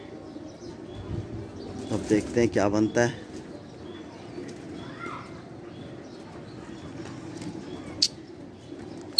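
Pigeons lifting off and circling, with a burst of wing flapping near the start and soft cooing and bird calls over steady outdoor background, while someone talks at the beginning.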